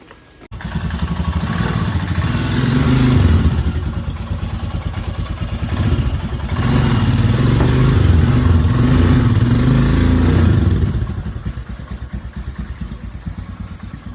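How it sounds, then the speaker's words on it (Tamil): Motorcycle pulling away at the start of a long road trip from Chennai to Vijayawada, steady loud engine drone close by that swells as it accelerates, then eases off slightly toward the end. "ஒரு வழியாக வண்டியில் ஏறி உக்காந்தாச்சு, கிளம்பியாச்சு"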